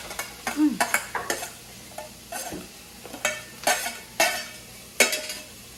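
Peppers stir-fry in a hot pan for Singapore noodles, with a series of sharp scraping and tossing strokes roughly every half second over a low sizzle, close and fairly loud, with no speech.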